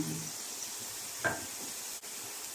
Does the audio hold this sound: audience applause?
no